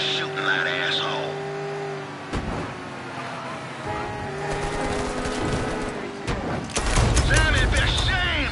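Gunfire and action noise from a PS4 video game, with a loud, dense mix of shots, engine-like roar and effects, and voices talking over it.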